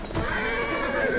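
A horse whinnies loudly and close by in Assassin's Creed Syndicate, a wavering drawn-out neigh lasting about a second.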